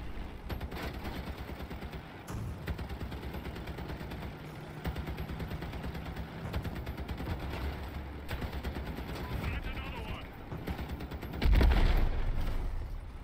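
Gunfire in the Crossout vehicle combat game rattles in bursts under a steady engine and battle din, with a few louder impacts near the end; mid-level and continuous.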